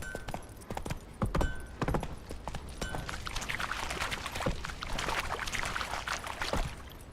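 Roach, Geralt's horse in The Witcher 3: Wild Hunt, clip-clops along with irregular, close hoof strikes, some sharp and loud, over a soft rustling background.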